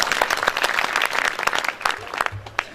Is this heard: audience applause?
yes